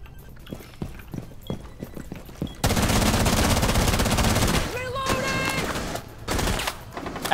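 Loud bursts of rapid automatic gunfire in a video game, starting with scattered shots and then erupting into a sustained barrage with sharp electronic tones near the end.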